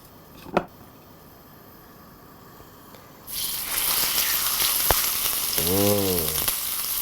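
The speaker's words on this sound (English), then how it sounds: "our butter is now sizzling, warm, and we're going to place our entrecôte" Entrecôte steak laid into hot sizzling butter in a pan: a quiet lead-in with a single knock, then a loud, steady frying hiss that fills the rest, with a brief tonal squeak near the end.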